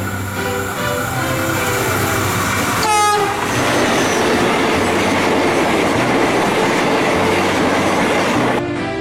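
A train rumbles by loudly and continuously on a curve east of Tarik station, wheels clattering over the rails with a steady roar and occasional squeal.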